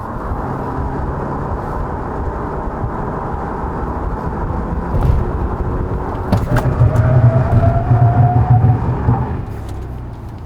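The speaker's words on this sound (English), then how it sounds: "Now let's check out the braking performance of Kia Cadenza" A 2020 Kia Cadenza 2.5 on 245/40R19 tires brakes hard to a complete stop, a loud steady road and engine rumble that swells as the car slows, with a rising tire whine near the end.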